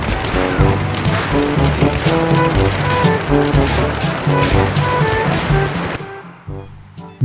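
Rapid bursts of gunfire in Battlefield 3 rattle over a busy, layered game soundscape, loud and continuous until everything drops away near the end.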